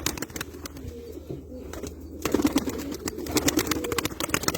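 Pigeons in a wooden loft coo softly and repeatedly, with scattered shuffling and occasional wing flutters close by, no talk.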